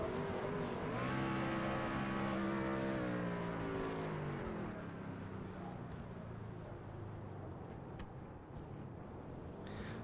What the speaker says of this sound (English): now finds himself doing burnouts down on the front straightaway